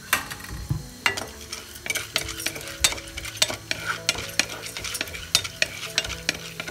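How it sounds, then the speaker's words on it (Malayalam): Chana dal dry-roasts in a pan for varutharacha sambar, a soft sizzle under a steady run of sharp scraping clicks as a spoon stirs it, close and rhythmic throughout. "ഇനി ഇതേ പാത്രത്തിൽ തന്നെ നമ്മുടെ കടലപ്പരിപ്പ് വറുത്തെടുക്കാം"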